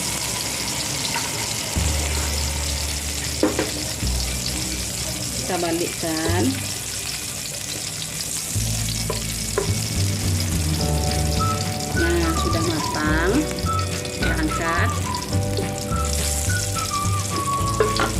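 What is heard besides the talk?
frying shrimp paste (terasi) in leftover oil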